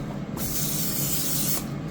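A steady hiss of butter cooking spray lasts over a second, close and loud, then cuts off, as bean taquitos are sprayed before air frying.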